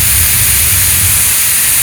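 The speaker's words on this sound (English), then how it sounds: "So full fan speed sounds like this." A Lenovo Legion Go handheld gaming PC's cooling fan runs at full speed, a loud, steady broadband whoosh with a faint low hum underneath, constant and unchanging throughout.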